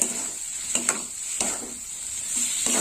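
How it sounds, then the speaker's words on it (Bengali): Tomatoes frying with spices in a pan for a fish curry, a steady hiss of sizzling broken by several sharp scraping strokes of a spatula, close and moderately loud, no voices. "টমেটো দেওয়ার পরেও একটু কষে নেব"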